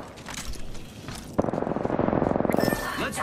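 Rapid automatic gunfire in a first-person shooter game, a dense rattling burst of shots in the middle after quieter sounds, fairly close and loud.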